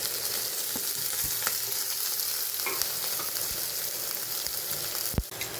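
Fenugreek seeds, garlic, green chilli and curry leaves frying in hot oil for a kadhi, a dense continuous crackling sizzle like heavy rain, close and loud, broken by a few sharp spatters and a knock near the end; no talking.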